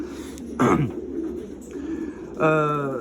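Young pigeons cooing in a pigeon loft, with short throaty coos rising over a soft background murmur and a louder, sustained call near the end.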